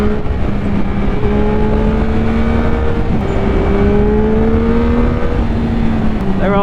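A Yamaha MT-09 SP motorcycle engine hums loud and steady while riding, its pitch holding level with slight rises, mixed with constant wind rush and no talk.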